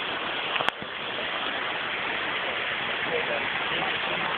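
A waterfall on a hiking trail roars in a steady, dense rush of falling water, loud and close and unbroken, with a brief sharp knock near the start.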